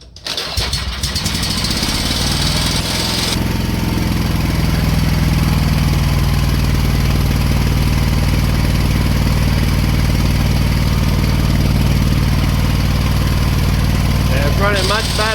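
Exmark lawn mower engine starting up, then running loud and steady close by after a locked-up motor was freed, with an uneven, rough tone at first that settles into a steady roar.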